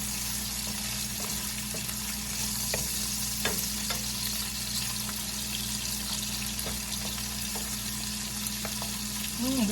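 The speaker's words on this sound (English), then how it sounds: "So we're going to saute these peppers." Peppers sautéing in a pan for Panamanian-style arroz con pollo, a steady close sizzle with a low background hum and occasional light stirring taps, no talking.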